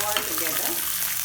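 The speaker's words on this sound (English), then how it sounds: "Saute them all together." Green chillies, peanuts and curry leaves sauté in hot oil, giving a dense, continuous close sizzle with small crackles throughout the short stretch.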